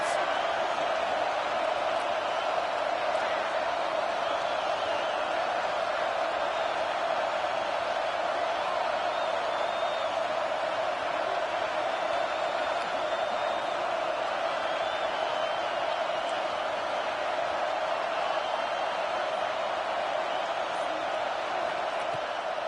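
A big football stadium crowd roaring behind the defense on a key third down, a dense, sustained wall of cheering and noise that holds steady for the whole stretch without easing off.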